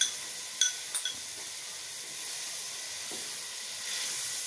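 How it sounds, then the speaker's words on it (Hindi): Macaroni with peas and tomatoes frying in a pan, a steady close hissing sizzle throughout, with a couple of brief metallic clicks near the start and no talking. "अभी इसको 5 मिनट हम जो है ना फ्राई कर लेते हैं।"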